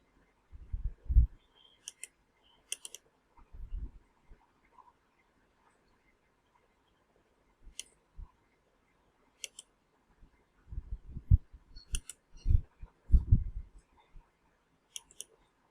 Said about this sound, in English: I'll double click on this